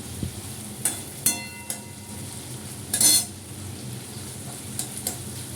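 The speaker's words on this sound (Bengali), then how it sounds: "চিংড়ি মাছটা আমার ভাজা হয়ে গেছে" Prawns frying in a pan: a low background sizzle broken by several sharp metallic clinks and scrapes of a utensil against the pan, one louder clatter in the middle.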